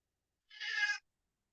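A single short kitten meow, clear and close against silence, lasting about half a second.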